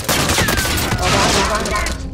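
Dense, rapid gunfire from many weapons rattles almost nonstop in a busy video game final circle, loud and close throughout, with bursts overlapping one another.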